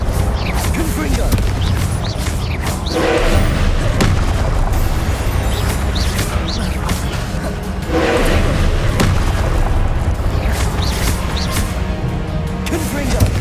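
Confringo blasting spells from Hogwarts Legacy go off in a series of booming explosive thumps across a noisy battle, with several blasts spaced through the stretch and a voice calling out over them.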